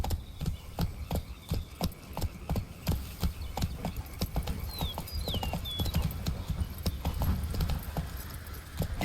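Horse hooves clop in a steady galloping rhythm in The Witcher 3: Wild Hunt – Blood and Wine, close and clear over a soft outdoor ambience with faint bird chirps partway through.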